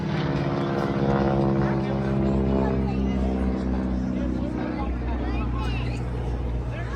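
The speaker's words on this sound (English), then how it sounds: "The aircraft you see in front of you is a heavily modified Grumman AGCAT. Our Pratt & Whitney R985 radial engine" A heavily modified Grumman AgCat biplane with a Pratt & Whitney R985 radial engine drones loudly and steadily at an airshow, a deep throbbing roar with crowd voices faintly mixed in.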